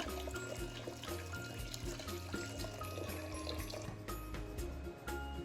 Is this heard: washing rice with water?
yes